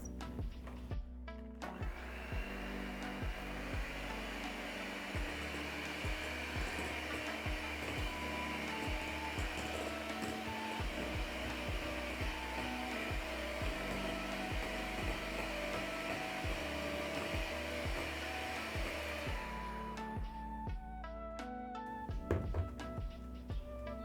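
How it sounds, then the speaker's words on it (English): An electric hand whisk beats wet cake batter containing vanilla essence in a bowl, a steady continuous motor whir running for about twenty seconds at close range before cutting off near the end. "And then I'm going to whisk again for about 1 minute."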